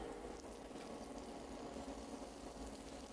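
Food sizzling in a pan on a stovetop at about 330 degrees Fahrenheit, a steady dense hiss and crackle with a low background hum, constant throughout with no talk.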